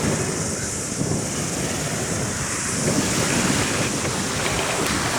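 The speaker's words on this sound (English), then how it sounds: "Damn, it's windy." Strong wind by a blue lake in New Zealand's South Island roars steadily across the microphone, a constant dense rushing that never lets up, with a faint hint of water beneath it.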